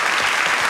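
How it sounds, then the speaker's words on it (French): Brief burst of dense audience applause, loud and continuous clapping from a crowd. "Faut les applaudir."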